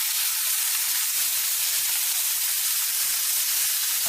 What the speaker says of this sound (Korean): 그리고 돼지고기 등심 카레용을 프라이팬에 넣고 볶아주세요.